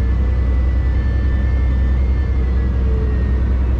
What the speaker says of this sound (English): I don't know if you can hear that screaming noise.